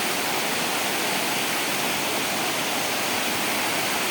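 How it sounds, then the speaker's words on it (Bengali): Fast-flowing water rushes across a road in Bahadurpur, Silchar, making a steady, dense, loud roar that holds without a break. "দেখতে পাচ্ছেন খুবই দ্রুত গতিতে জল ছুটছে।"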